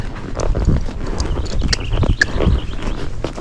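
Hooves of a Tennessee Walking horse clip-clopping on a trail, a steady irregular series of close, fairly loud thuds and scuffs with a faint bird note in the background.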